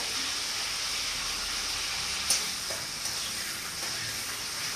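Cashew nuts and raisins being stirred in a frying pan for egg chicken fried rice: a steady close sizzle of frying with faint scraping of the spatula and a brief clink midway, no voices.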